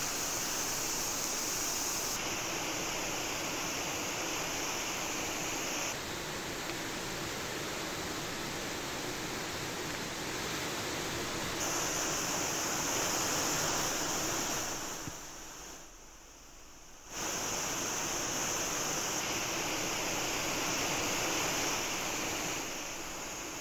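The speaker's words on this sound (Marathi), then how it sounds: "काळ्या कातळातून फेसाळत पडणारं पांढरे शुभ्र पाणी" Bandh Tivre waterfall pouring white, foaming water over black rock, a steady roaring wash of falling water that holds constant, briefly dips, then returns at full strength.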